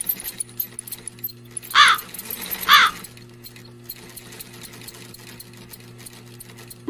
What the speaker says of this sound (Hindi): जब भी उसे समय मिलता वो अपनी माँ की सिलाई मशीन निकाल कर उस पे सिलाई करने लगती।